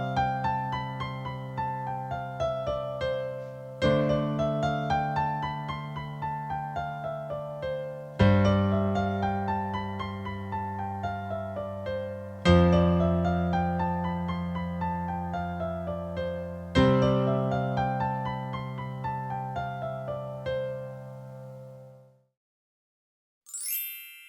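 Piano scale played with both hands together, a run of ascending and descending notes in several clear passes that each start with a fresh strike and ring out, ending in a brief silence.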